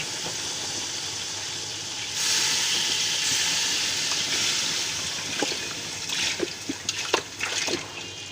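About 1.5 litres of water poured into fried masala for beef nalli nihari sets off a loud hissing sizzle after a quiet start, then settles into bubbling with a few clinks.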